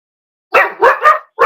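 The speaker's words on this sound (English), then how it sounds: "Doggy alarms going off." A dog barks sharply four times in quick succession, loud and close, in a billiards hall during a pool match, each bark short and punchy with brief gaps between.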